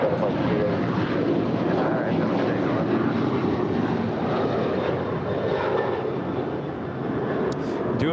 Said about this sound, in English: United Airlines Flight 2614 heading to Newark. It's a 787-10 Dreamliner.